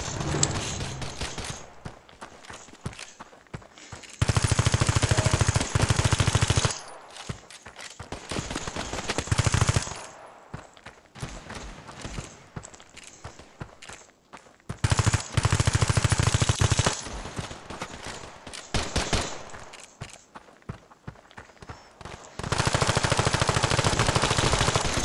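Automatic weapon spraying in the shooter Standoff 2: loud, sustained bursts of rapid gunfire recur several times, separated by quieter stretches of scattered shots and game noise.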